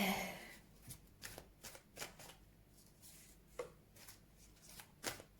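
Tarot cards are shuffled before a reading, a series of quick riffling bursts and soft slaps repeating irregularly at close range, fairly quiet and without speech.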